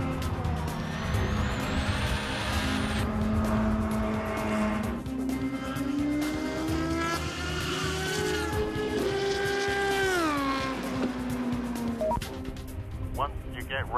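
Acura P1 prototype race cars and a Fernandez P2 car run at the Sebring circuit, their engines droning loud and steady with rising and falling pitch as they accelerate and shift, under radio chatter.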